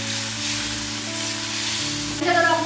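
Onion and tomato frying in a small kadai give off a loud, steady sizzle with a faint background hum and a slight stirring scrape near the end, close by.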